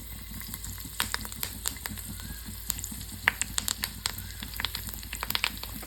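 Garlic and curry leaves fry in hot oil for a jackfruit-seed curry, giving sharp crackles and pops over a soft sizzling hiss, close and moderately loud without speech.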